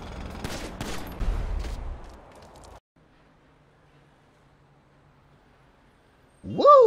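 Gunfire in the video game GTA V: a dense burst of shots over about three seconds, loud and close, then near silence with a faint hum, ending with a sharp rising electronic whoosh.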